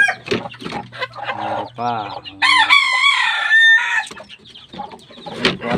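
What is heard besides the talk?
chickens clucking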